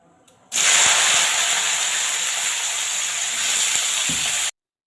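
Green beans hit hot oil in a pan, bursting into a sudden loud, steady hissing sizzle that holds for about four seconds and then cuts off abruptly, close and alone.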